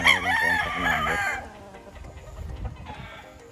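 Gamefowl hens and roosters at a game farm: a rooster crows loudly and close, followed by scattered softer clucks and farmyard rustle.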